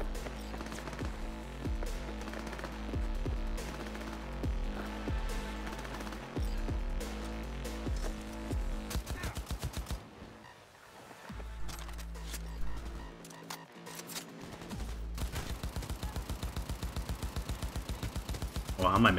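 Rapid gunfire bursts from Cyberpunk 2077 combat, loud and repeated over a steady game score, with a short lull midway before another dense volley of shots.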